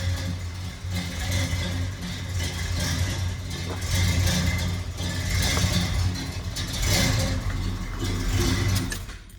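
A 1969 Oldsmobile Cutlass S convertible, still a little cold after sitting indoors, runs at a steady idle with a low, rumbling engine drone that swells slightly at moments and continues without voices.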